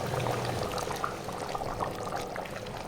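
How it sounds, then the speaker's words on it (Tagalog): Okra poured into a pot of vigorously boiling water, a steady rushing splash and bubbling that stays fairly loud and continuous without any voices. "Eto na, ibubuhos ko ng ating okra."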